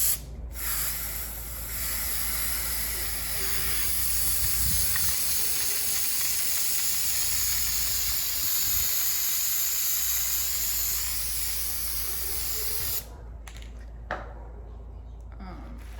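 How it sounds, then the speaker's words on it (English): A long continuous hiss of an aerosol can of spray adhesive spraying up close onto a Camaro's A-pillar for a headliner, holding steady for several seconds before cutting off, followed by a few short bursts. "I try to spray like 6 inches away from the surface and just cover it with the glue"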